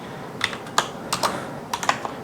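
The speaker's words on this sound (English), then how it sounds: "we're gonna repeat that same command again by clicking up the up arrow key" Keys on a computer keyboard are tapped close up in a quick, uneven burst of about eight crisp clicks over a quiet background.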